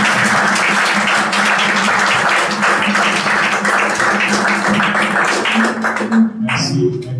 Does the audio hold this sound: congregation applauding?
yes